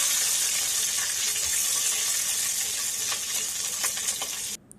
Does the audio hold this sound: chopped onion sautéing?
yes